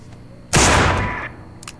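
A single loud revolver shot fires in the zombie survival game No More Room in Hell, a sharp close blast with a rumbling tail that fades over about a second.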